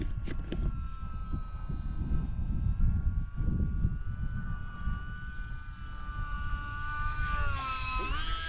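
E-Flite Valiant 1.3 m electric RC plane flying circuits for landing practice, a steady whining motor tone with drifting pitch over wind rumble, rising sharply at the end as it passes.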